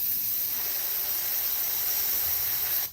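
Spray paint hisses steadily onto a musky fishing lure being painted in an ice cold perch pattern with silver, a close, continuous rush lasting about three seconds before cutting off.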